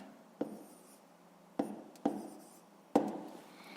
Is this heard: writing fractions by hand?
yes